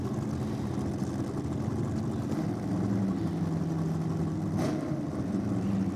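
Two drag racing cars, a Chev 409 and a 350 Chev, idle at a drag strip event, giving a steady low engine rumble that holds evenly throughout with no voices.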